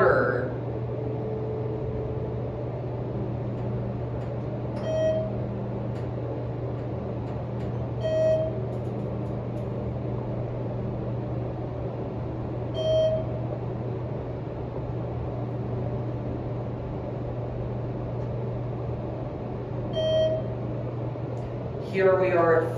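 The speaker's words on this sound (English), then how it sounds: "Listen to the motor." Steady low hum of a ThyssenKrupp hydraulic elevator motor running in a museum, with a constant drone throughout and soft chime-like beeps recurring every few seconds, continuing alone without talk.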